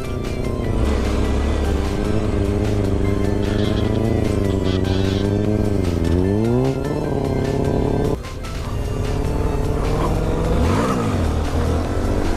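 A motorcycle engine revs hard and holds high pitch during a wheelie, the loud buzzing tone rising and falling as the throttle changes, close by, with a voice faintly underneath.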